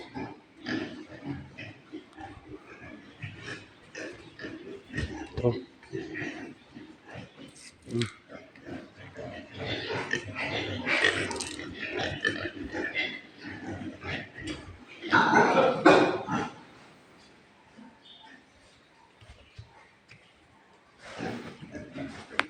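Pigs grunt and squeal close by in a noisy pen, with a person talking over the animal sounds throughout.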